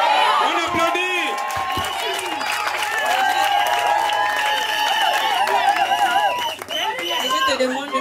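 Guests clapping at a customary wedding ceremony, a sustained burst of applause and cheering from a crowd, with voices and music-like tones mixed in throughout.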